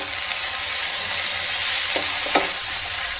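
Ginger paste sizzles steadily in a hot pan, sautéed for Bengali shukto, a constant close frying hiss with a couple of faint stirring scrapes near the end.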